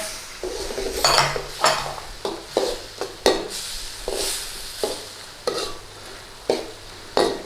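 Metal utensil scraping and clanking against a pan as red chilli is stir-fried with beef and banana peppers, a steady run of sharp knocks and scrapes over a faint sizzle.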